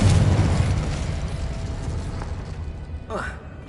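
Confringo blasting spell exploding in Hogwarts Legacy, a loud low boom at the start that decays over a few seconds, followed by a brief chirping magical flourish near the end.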